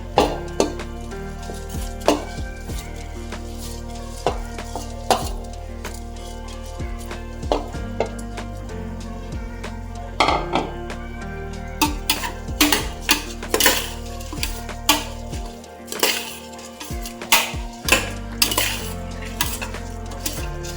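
Soaked basmati rice rattles and scrapes into a metal pot for mushroom biryani, with repeated clinks of a spoon against the rim and steady stirring, close and fairly loud, with no talk.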